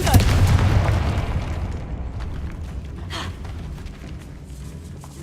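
A Confringo fire spell explodes in Hogwarts Legacy with a loud, booming blast at the start, then a rumbling, crackling tail that slowly fades, with a brief whoosh midway.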